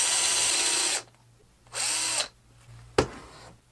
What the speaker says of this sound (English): So now I shall be drilling with the Forstner bit.